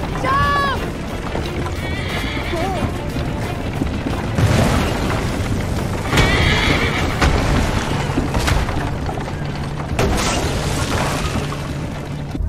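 A horse whinnies briefly at the start amid loud action sounds in Assassin's Creed Liberation, with booms and shouting voices throughout.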